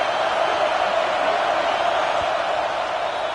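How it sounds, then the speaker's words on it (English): A stadium crowd roars through the early going of a football game against Pittsburgh, a dense, steady wash of distant cheering and noise that holds at an even level. "Listen to the crowd energy here in the early going."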